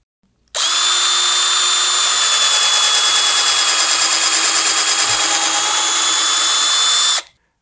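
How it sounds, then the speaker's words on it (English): A power drill whines loudly and steadily as it bores a pilot hole into pine wood for an oarlock, starting abruptly and stopping after about seven seconds. "I'm being careful to drill straight down"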